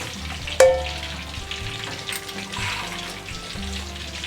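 Bitter melon cooking in a generous amount of oil in a pan over medium heat, a soft continuous sizzle with one sharp clink near the start, quiet music running beneath.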